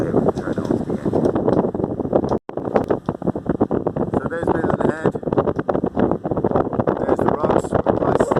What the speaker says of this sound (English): we're motor sailing around Mizen